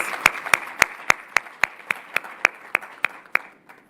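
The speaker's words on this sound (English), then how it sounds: "A round of applause for our partners." Steady rhythmic clapping at a ceremony in honour of partners, the official launch of Healthcare Worker Appreciation Month: about a dozen sharp, evenly spaced claps at moderate level with a quiet background, fading out at the end.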